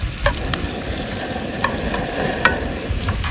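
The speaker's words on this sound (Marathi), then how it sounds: "पहिला आपण आता कांदा परतून घेऊ. आता हा कांदा ब्राऊन होईपर्यंत त्याला आपण चांगलं फ्राय करणार आहोत" Onion frying in a pan outdoors on a hillside, a steady close sizzle throughout with a few sharp stirring clinks at intervals.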